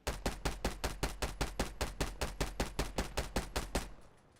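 Single-fire gunshots in a video game crack out loud and steady, about sixteen evenly spaced shots at a brisk rhythm before the firing stops and a faint tail lingers.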